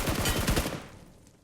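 Rapid bursts of shotgun fire in the BGMI battle royale game, a quick run of sharp, loud blasts over about half a second that trail off into fading echo.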